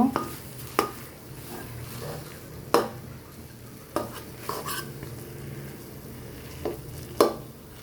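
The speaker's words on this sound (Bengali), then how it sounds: "এখন একটু ভালো করে এই মাছের মাথাটার সঙ্গে কচুর শাকটাকে মিশিয়ে নেব" A fried fish head is mixed into taro leaves in a pan, with scattered utensil scrapes and knocks against the pot over a low sizzle, close and fairly quiet, with no talk.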